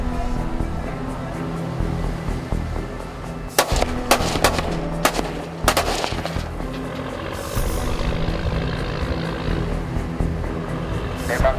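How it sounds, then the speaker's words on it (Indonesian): Warning shots are fired into the water from an Indonesian patrol ship off Natuna, a cluster of sharp, loud cracks near the middle of the clip over a steady engine drone and wind. "Tembakan ke air 2 kali."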